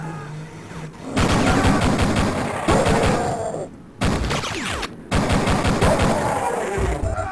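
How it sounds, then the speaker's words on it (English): Loud sustained bursts of automatic gunfire hammer close by in Duke Nukem Forever, split by short pauses into several long volleys of fast repeated shots, set against snipers firing at the player. "Something is shooting me all the time."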